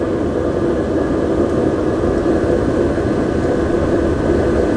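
A Webasto diesel van heater runs with its muffler fitted, giving a steady, even low roar and rumble with no breaks, heard close and alone.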